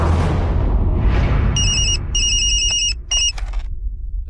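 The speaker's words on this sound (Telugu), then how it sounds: "వైజాగ్ మోహన్ రావు ఫోన్ కలుపు." A telephone rings in a Telugu action movie scene, with bright electronic trills in three short bursts over a low rumble.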